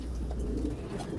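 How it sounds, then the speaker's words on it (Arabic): Pigeons cooing inside a wire-mesh loft, a low muffled burble that carries on steadily over a short stretch, fairly faint. "تعالوا بقى نشوف الحمام"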